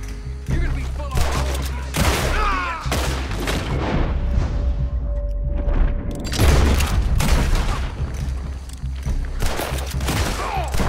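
Gunfire in the Western video game Red Dead Redemption 2, a dense loud fusillade of shots and booms that goes on nonstop and drowns out the background.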